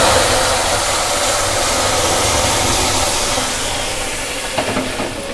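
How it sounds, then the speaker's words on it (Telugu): Loud, steady sizzling and hissing as cooked dal is poured into hot oil tempering, a broad continuous crackle that fades slightly toward the end with no voices. "ఉప్పుకున్న పప్పుని ఈ తాలింపులో పోసేసాను"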